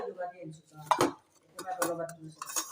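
Metal tiffin lids and a bowl clink and rattle as a lunch box is opened and dal is poured, a few sharp clanks and scrapes under ongoing talk.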